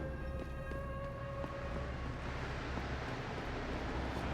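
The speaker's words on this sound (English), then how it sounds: "Let's see if this train takes me to the wrong location." Train pulling in within a video game, with a rumbling rail wash under sustained tonal hums and a few rhythmic clunks, steady and moderately loud, ending in a broad noisy roar.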